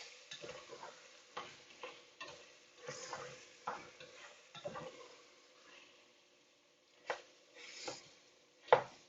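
Ground meat browns in a pan with almost no liquid left, with a soft, quiet sizzle broken by a series of scraping stirs and utensil knocks, the last one sharper and louder.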